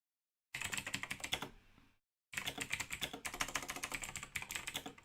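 Quick clattering keystrokes on a computer keyboard enter a password in two close, fairly quiet bursts separated by a short pause, with no voice.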